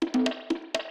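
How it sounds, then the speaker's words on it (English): A reversed conga sample from a house music drum mix: a handful of swelling, backward-sounding hand-drum hits in a loose rhythm, close and moderately loud with no talk. "I can reverse sounds like this, so I'll reverse it."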